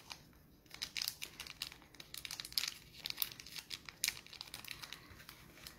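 A plastic bag crinkles in quick irregular bursts up close, crackling and rustling as it is handled, loud against a quiet background.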